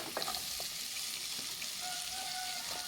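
Garlic dropped into melted margarine in a frying pan, with a soft, continuous sizzle and a few small crackles and pops throughout.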